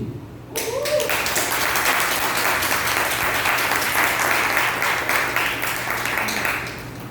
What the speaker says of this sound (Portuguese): pedir aos conselheiros uma salva de palmas para a nossa secretária executiva